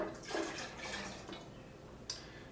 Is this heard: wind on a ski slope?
no